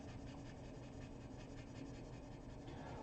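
Steady, continuous scratchy rasping of a colored pencil moving across paper, close and even throughout with no pauses or voices.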